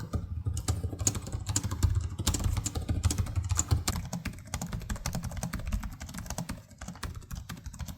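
Rapid typing on gaming laptop keyboards, an Acer Predator 16 and a 2025 Asus ROG Strix G16, the Strix keys clickier with longer travel; dense, steady close-up key clatter throughout with a low background hum.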